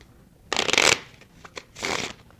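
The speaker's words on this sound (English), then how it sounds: "he gave the cards a couple cuts and a shuffle." A magician riffle-shuffles a deck of playing cards in two quick close bursts of rapid flutter, with soft taps and handling noises between them and no talking.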